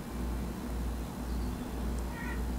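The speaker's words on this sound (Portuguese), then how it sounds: "Ela acorda miando." A just-woken cat gives a faint, brief meow late in the clip, set beneath a steady hum and low background rumble in an indoor room.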